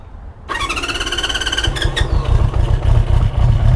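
A 1973 Honda CB350 Four engine fires up loud and close, its rapid four-cylinder burble climbing as the throttle is blipped, with quick revs and a throaty idle following.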